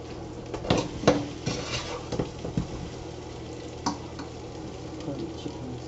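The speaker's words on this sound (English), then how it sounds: "Curry chicken, you see it's frying up there." Guyanese-style curry chicken sizzles and fries in a pot at moderate level, with scattered scrapes and clinks of a utensil stirring and a faint steady hum underneath.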